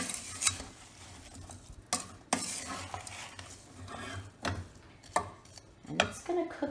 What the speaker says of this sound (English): Get the sugar and the lemon juice combined.